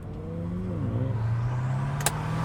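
A turbocharged two-wheel-drive car's engine revs up, a loud, close, rising drone climbing steadily in pitch over a couple of seconds, with a brief sharp click near the end.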